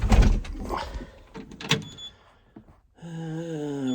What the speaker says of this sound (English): Door didn't want to open.